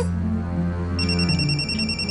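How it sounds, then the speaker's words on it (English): A phone ringing: a high, pulsing electronic ringtone starts about a second in and repeats steadily over a continuous low background drone. "Phone's been ringing non-stop."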